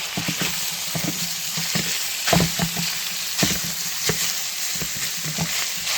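Sausage sizzles steadily in a pan while a meat chopper breaks it into small chunks, with repeated scraping and tapping strokes over the constant frying hiss and no talking.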